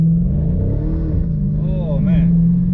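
A car launches hard on new rear tires, its engine revving loudly with wheelspin as the pitch wavers and climbs, and a voice speaks over the close-up roar.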